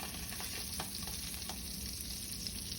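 Butter sizzles in a pan with a little olive oil. Steady, gentle frying crackle is heard alone, fairly faint but continuous throughout.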